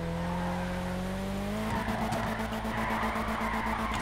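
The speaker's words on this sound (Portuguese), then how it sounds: "O carro foi feito pra drift" A Nissan Skyline drifts in GTA 5, its engine holding a steady drone before tires break into a long, loud squeal with rapid fluttering skids. No talk.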